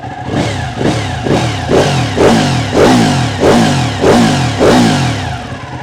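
A Ducati Panigale 959 sport motorcycle engine revs hard in repeated rising blips, about nine throttle bursts in a steady rhythm, loud and close with no talk.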